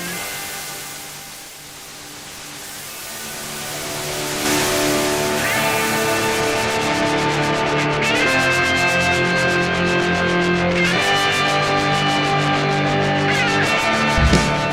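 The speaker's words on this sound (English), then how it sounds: "by dialing in the saturation, you will get a lot of grit and a barfy, splashy kind of saturation" A free saturation VST plugin adds heavy, gritty, splashy distortion to a sustained tonal sound that swells up over the first few seconds, then holds loud and dense with shifting harmonics until the end, with no voice.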